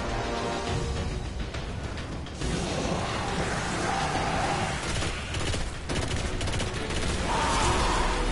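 Rapid gunfire rattles and bursts almost nonstop in a Destiny: The Taken King boss mission against Oryx, with mechanical clanks and bright sci-fi weapon tones layered through a dense, loud combat mix.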